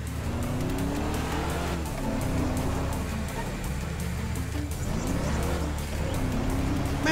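Motorbike engine in Grand Theft Auto V, a steady loud drone with pitch sweeps as it revs and shifts, mixed with other traffic and game sound throughout.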